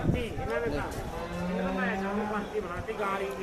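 Buffaloes low in a busy livestock market in Dhanaula, Punjab, long moos rising over crowd chatter and people talking nearby.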